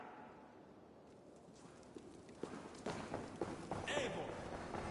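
Horse hooves clop in Assassin's Creed Valhalla on PS4, a quiet start building into a steadier run of hoofbeats with a voice speaking over them.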